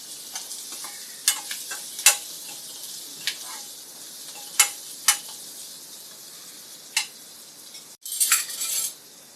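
Coriander powder being stirred into yellow moong dal in a pan, a spoon scraping and clinking against the metal in scattered sharp strokes over a faint, steady sizzle, close by with no talking.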